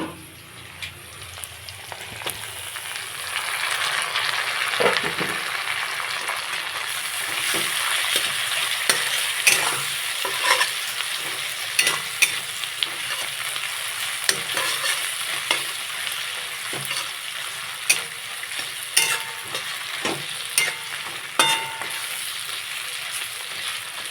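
Dried red chillies, ginger and slit green chillies fry in hot oil for a fish curry, a loud continuous sizzle and crackle with scattered sharp pops and occasional stirring scrapes throughout.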